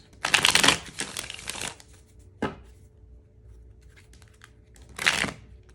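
Stiff tarot cards riffle-shuffled in two loud crackling bursts, a quick tap between them, then another short shuffle; quiet otherwise.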